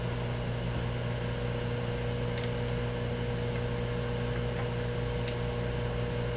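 Wells Index 823 CNC mill running in high gear on three-phase power, a steady low mechanical hum with constant tonal whine, even and unchanging, with a couple of faint clicks and no talk.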